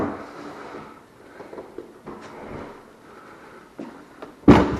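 A sliding bypass door is lifted and fitted onto its track, giving soft scrapes and light knocks followed by a sharper clunk at the end.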